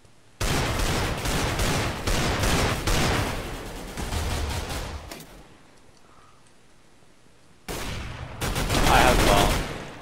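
Rapid FAMAS automatic fire in a Minecraft recreation of CSGO comes in two loud bursts of sharp cracks, separated by a quiet gap of a few seconds.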